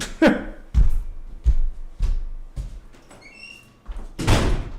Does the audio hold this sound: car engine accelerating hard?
no